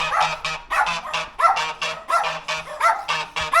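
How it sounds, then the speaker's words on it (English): A guard dog at a lodging barks repeatedly and loudly at close range, steady rhythmic bow-wows following one another in quick succession with brief gaps, no talk over them. "So we got a guard dog"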